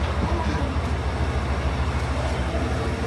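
Train pulling into Niseko Station in snowy Hokkaido, a steady low rumble of rail cars running close and fairly loud throughout, with no talking.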